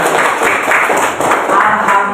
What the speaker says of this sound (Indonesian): Betul sekali, tepuk tangan